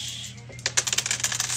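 Dice clatter and bounce in a street dice game, a quick run of sharp clicks and rattles close by, settling after about a second over a steady low hum.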